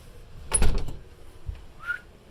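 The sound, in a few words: glass door of a camper being closed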